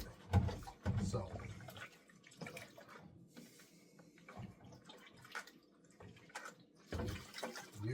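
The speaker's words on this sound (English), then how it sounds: "now we hand wash everything" Dishes being hand washed under running water in a home kitchen sink, with soft splashing, clinks and a steady faint stream at close range, in bursts separated by quieter stretches.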